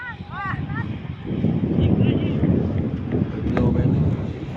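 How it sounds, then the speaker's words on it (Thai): Strong wind roars and buffets the microphone outdoors while a racing kite is flown, a steady gusting rush that swells and eases, with brief voices in the background. "ลมมาแล้ว"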